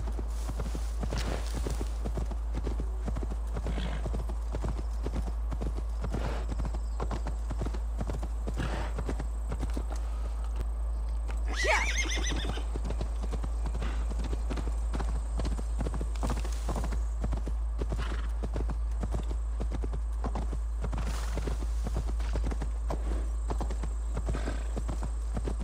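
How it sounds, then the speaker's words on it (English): Horse hooves clip-clop at a steady rhythm in Assassin's Creed Valhalla on PS5, with a short whinny partway through, all over a constant low rumble. "Come on in, horsey."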